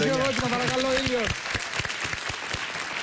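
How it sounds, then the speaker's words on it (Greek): Audience applause breaks out in a Greek TV late-night talk show studio, a steady wash of clapping that continues for about three seconds after a brief stretch of music or tones at the start. "Ένα χειροκρότημα, παρακαλώ"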